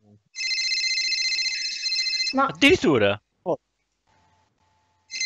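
A telephone rings in steady repeated bursts indoors, then stops; a person speaks briefly afterward in the quiet room.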